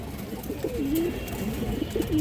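An Indian Kaldam pigeon coos in low, wavering phrases, a few repeated calls close by over a steady background hum.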